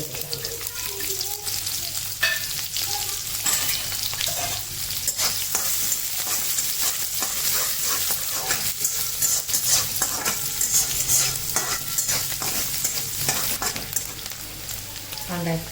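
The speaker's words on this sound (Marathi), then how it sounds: "अर्धा चमचा मोहरी आणि कांदा टाकते छोटा तो परतून" Mustard seeds and onion fry in hot oil in a pan, giving a dense, steady sizzle and crackle with scattered scrapes and clinks of a stirring spoon, close and continuous with no talking.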